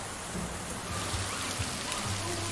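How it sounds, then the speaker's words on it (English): Heavy monsoon downpour during a violent storm in Thailand, a dense steady hiss of rain pounding surfaces with low rumbling underneath, continuous and close. "Monsoons can easily whip up into violent storms, and this was the result."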